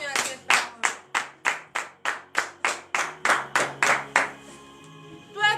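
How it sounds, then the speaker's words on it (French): Rhythmic hand clapping at a morning prayer service in Benin, about fifteen steady claps in a row from a close group, then a short pause before one more clap. "Donnez de vives acclamations à cette parole"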